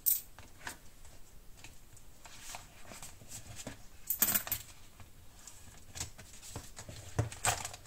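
Coins dropped into a paper budget envelope, a few small metallic clinks and light shuffling sounds scattered across a quiet room, close and soft.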